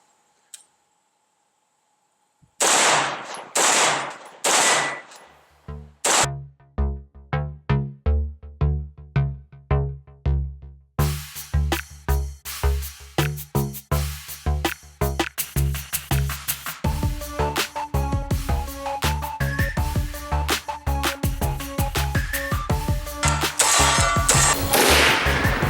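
An AR-15 rifle firing at a steel target, a long series of sharp, loud shots that start spaced apart and then come in a faster, steady rhythm, each with a ringing tail.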